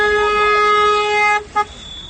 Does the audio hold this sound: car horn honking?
yes